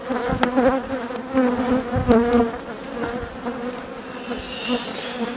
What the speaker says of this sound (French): Trop d'abeilles.